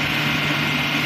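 A Maruti Alto car engine idles at slightly high revs, its IAC valve just serviced, giving a brief, steady, close drone with an even hum and no voices.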